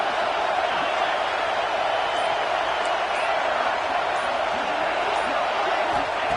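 Steady roar of a football stadium crowd making noise to back the defense ahead of a red zone stop, a dense, continuous wall of cheering with no breaks.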